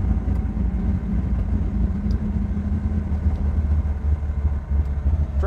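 A 1972 Pontiac Lemans engine runs steadily at idle, a loud, close, low rumble with an even lope and no other sounds over it.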